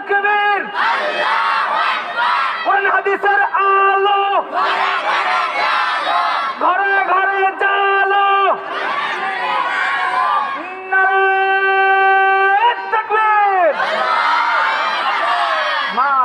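A large crowd at a school farewell gathering shouts takbir in unison, loud surging bursts of massed voices repeated in a chanting rhythm, separated by brief pauses.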